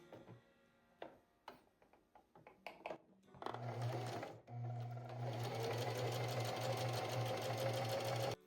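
Sewing machine running a quarter inch seam on tissue holder fabric pieces, a few short stitching bursts and ticks first, then a loud steady motor whir with rapid needle clatter held to the end.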